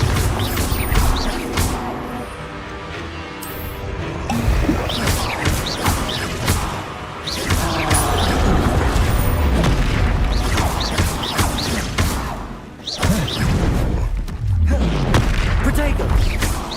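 Repeated booming blasts from Bombarda spells in the Hogwarts Legacy video game burst amid dense combat noise, with deep impacts and crashes layered over other spell effects and game sounds, with a brief lull near the end.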